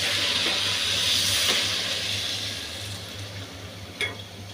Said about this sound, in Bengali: কিছুক্ষণ ভাজার পরে এখন উতরানো গরম পানি দিয়ে দেবো আমি